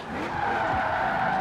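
A car skids through a corner in the Forza Horizon 4 racing game, a loud sustained tire squeal over engine roar, brief and continuous.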